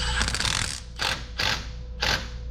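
A wrench tightens a bolt on a welded metal part with repeated bursts of ratcheting clicks, close and distinct, separated by brief pauses.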